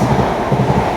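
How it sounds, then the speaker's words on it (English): A train arrives at a platform in West Sussex on the Redhill to Brighton line, giving a low steady rumble of wheels and motion, moderately loud and close, with no clear voices. "The train now approaching platform 2"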